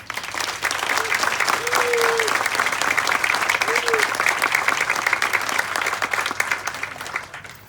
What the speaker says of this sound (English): So let's give you all a round of applause.